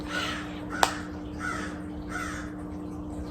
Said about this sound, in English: the birds want to start chirping whenever I'm doing the intro